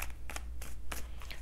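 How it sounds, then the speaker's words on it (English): A tarot card deck shuffled in quick riffling bursts, about five short crisp rustles spaced evenly, close and fairly loud over a low steady hum. "So let me give this a shuffle."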